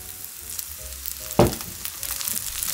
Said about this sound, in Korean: 요거는 기름을 좀 충분히 넣고 구우면 좋아요